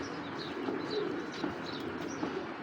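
A Pakistani Gangchil pigeon gives soft, repeated cooing calls, nearby and moderately loud, over a steady low background hum.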